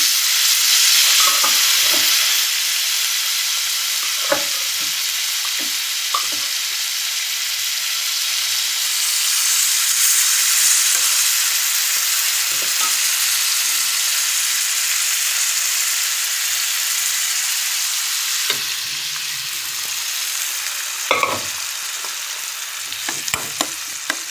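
Boiled leafy greens fry in oil in a frying pan, giving a steady, close hiss and sizzle that runs throughout, broken by scattered light scrapes and taps of stirring.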